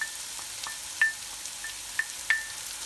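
Garlic frying in a pan for souzoukakia, a soft steady sizzle with a few sharper pops and crackles, close and quiet, no voices.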